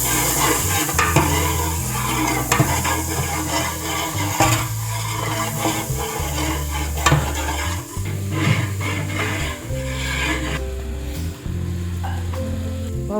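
Cumin seeds sizzling in butter on a pan for Mumbai street-style pav bhaji, a continuous close crackling sizzle with loud scraping and stirring knocks throughout, no voices.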